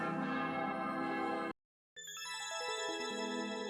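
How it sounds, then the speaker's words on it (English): Bell chimes from a Mario Maker 2 video game level, a dense ringing cluster that cuts to silence, then a descending run of bright bell tones, loud and alone with no talking. "There's a lot of bell noises at the end."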